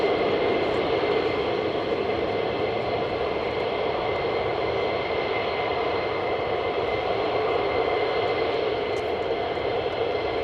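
Fighter jet engines at RAF Lakenheath, a loud continuous roar with a steady high whine layered over a broad rumble, sustained without a break and with no talking.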